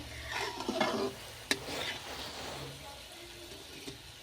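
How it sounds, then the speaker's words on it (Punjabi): Pumpkin (tinda) curry seasoned with salt and chilli being stirred in a pan, with soft scraping and a light sizzle, a sharp clink near the middle, and faint background voices. "ਚੰਗੀ ਤਰ੍ਹਾਂ ਹਿਲਾਉਣਾ ਇਹਨੂੰ ਰਲਾਉਣਾ ਜਿਹੜਾ ਜ਼ਰੂਰੀ ਹੈ"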